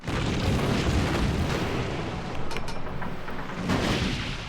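Heavy naval gunfire from battleships in World of Warships rumbles as deep, rolling booms and sustained low roar, loud and continuous with swells of blast energy, no talking.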